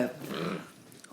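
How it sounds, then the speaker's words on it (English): A pet dog right beside the microphone growls in a low, rumbling snarl for about half a second, close and clear, then trails off into quieter breathy whimpering. "I'm also more annoyed by my dog right next to me"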